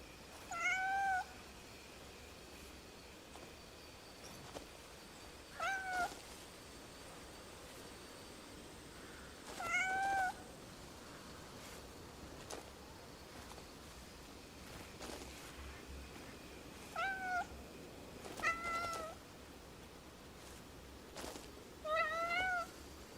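A fat cat in the open-world game Crimson Desert meows about seven times, each a short clear call spaced a few seconds apart, over a quiet ambient wind or surf background.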